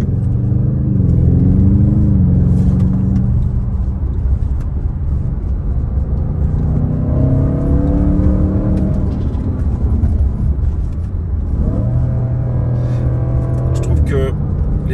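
An Audi RS7 C8 accelerates hard while driving, its engine climbing and rising in pitch through the gears in loud repeated sweeps, with someone talking over it at times.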